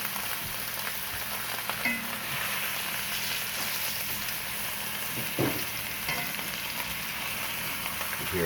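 Rib eye steak searing in a hot iron pan, a steady dense sizzle with scattered pops and crackles of fat, close and continuous with no talking.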